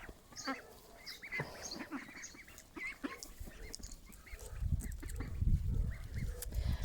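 Ducks quacking in short bursts nearby, mixed with faint background noise and a rising low rumble toward the end.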